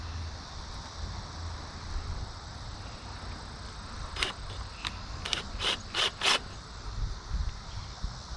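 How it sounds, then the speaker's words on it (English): Screws being driven into a hummingbird feeder post bracket, heard as a cluster of short, scraping turns near the end, over steady outdoor background noise. "And we'll pop a couple screws in there."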